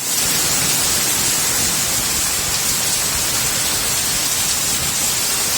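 Torrential downpour from a cyclone hitting Karachi and nearby areas, a dense, unbroken roar of heavy rain pounding surfaces at steady loudness throughout, with no voices.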